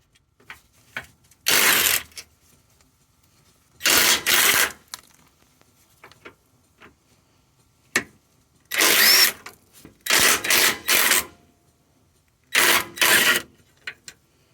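A power tool works on the 17 mm cross member bolts under a Mitsubishi Montero, firing in about six loud, short bursts of rattling whir with quiet pauses and faint clinks between them.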